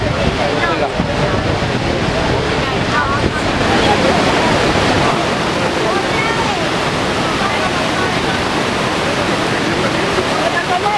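Niagara Falls pours in a loud, steady roar of falling water, broadband and unbroken from start to finish, with wind buffeting the microphone.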